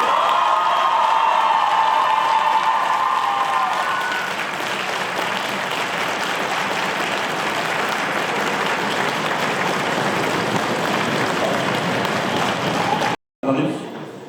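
Sustained loud applause from a large audience, dense clapping with some cheering, fading slightly before cutting off abruptly near the end.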